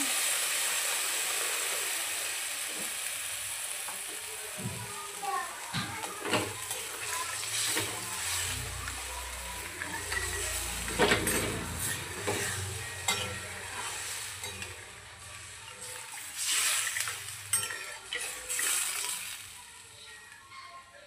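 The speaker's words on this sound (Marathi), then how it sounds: "यामध्ये आता आपण पाणी ॲड करूया." Water poured into a pot of sautéed mutton brings a steady, fairly quiet hiss and sizzle, broken by intermittent stirring scrapes and bubbling bursts.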